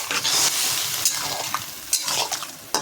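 Broadband sizzle and bubbling from an okra and prawn curry in a pan as water goes in, with stirring scrapes and a few sharp clinks of utensil against pan, steady and close with no talk.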